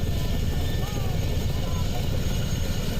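An Indian Air Force Chinook helicopter heard up close as a loud, steady, deep rotor and engine roar that fills the scene without letup.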